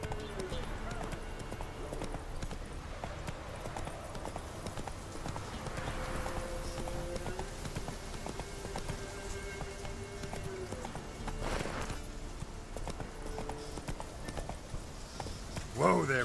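Roach, a horse in The Witcher 3 video game, trotting with a continuous clip-clop of hooves and a brief whinny, with someone speaking over the hoofbeats.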